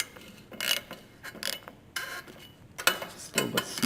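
A hand ratchet snugging down the engine head bolts on a Simplicity 560 tractor, several short bursts of quick clicking close by, separated by brief pauses, no talking.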